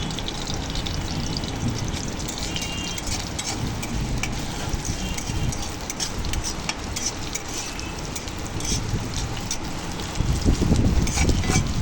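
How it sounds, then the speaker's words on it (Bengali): Chopped onion and garlic sizzle steadily in hot oil in a pan, a dense crackling hiss with occasional stirring scrapes, louder toward the end. "হালকা করে গরম হয়ে গেলে ওর মধ্যে পেঁয়াজ কুচি এবং রসুন কুচি দিয়ে দেবো।"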